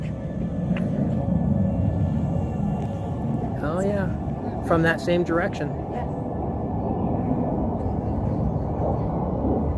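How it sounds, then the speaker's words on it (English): A jet aircraft passing overhead outdoors makes a steady low roar that runs through the whole stretch, with people talking over it now and then. "What is that? A jet?"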